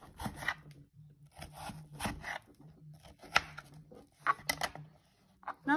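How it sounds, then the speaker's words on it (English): A knife cuts the core out of a crab apple with slow rasping, scraping strokes that come in several uneven bursts, close and quiet, ending with a few sharper clicks. "Now I'm going to cut the core out."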